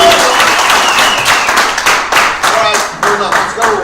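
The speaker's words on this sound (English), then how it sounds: "please give Harry Spore the best round of applause you've ever given anybody." An audience at a Weichert Realtors event bursts into loud, sustained applause, dense clapping that ripples on for several seconds with a few crowd voices mixed in.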